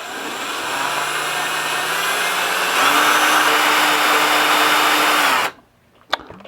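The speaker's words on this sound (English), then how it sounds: "Stick that in here and attach the drill." A power drill spins a degassing wand stirring white wine made from 2016 Pinot Grigio juice, a steady loud whirring motor that rises in pitch midway, then cuts off abruptly, leaving a brief clink.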